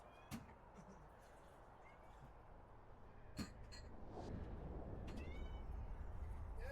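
A cat meows a few times, in short, fairly close calls spaced across the stretch, over a steady background hum that slowly grows louder.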